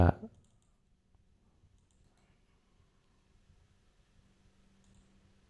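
A single sharp click of a computer mouse sounds at the very start, then only near silence with a faint low hum follows.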